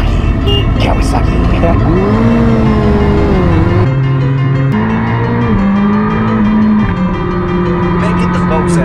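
Kawasaki Ninja motorcycles rev and ride past in Florida, loud and close, their engine pitch sweeping up and down through gear changes, with voices mixed in.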